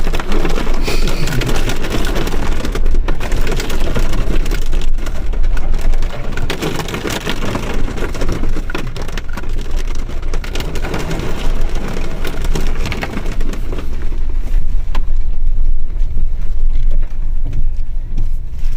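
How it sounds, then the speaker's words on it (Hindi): Heavy rain pours down in a loud, continuous roar, drumming on surfaces with a constant low rumble, as if heard from inside a vehicle on a mountain off-road route from Dharchula to Gunji. "और अचानक से हुई भारी बारिश।"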